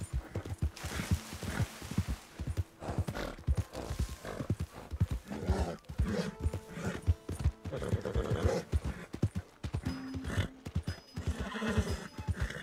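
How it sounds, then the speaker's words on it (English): In the video game Red Dead Redemption 2, a horse's hooves clip-clop steadily and close by while it whinnies and snorts, with occasional tack jingles. "Hitch the horse."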